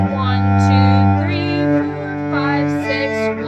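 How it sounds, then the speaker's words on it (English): A bowed open string holds a sustained tone, with strokes changing in a lilting 6/8 rhythm. The sound is close and fairly loud, and no one speaks. "Step number 2 would be doing what I call open string practice."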